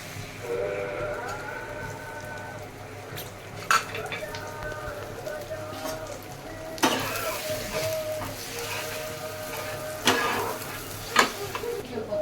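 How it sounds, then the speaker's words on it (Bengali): An egg fries in oil in a pan with a soft, steady sizzle, broken by a few sharp clicks and scrapes of a utensil nearby. "ডিমটা ভাজা হয়ে গেছে"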